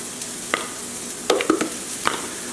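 Coleslaw ingredients such as celery and onions being stirred in a bowl, giving a few scattered scraping and clinking strokes close by with no talk.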